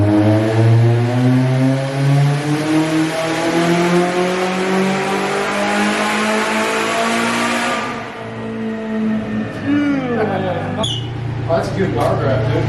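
A turbocharged Subaru BRZ making over 500 horsepower on E85 revs hard on a dyno, its engine note climbing loudly and steadily for about eight seconds before the throttle lifts, with turbo flutter and renewed revving after.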